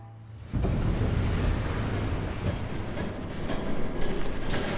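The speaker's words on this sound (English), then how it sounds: "There's a train coming." A train in the video game Batman: The Telltale Series rushes past after a quiet moment, a loud, continuous rumbling roar with a faint rhythmic clatter of the cars that holds steady for several seconds.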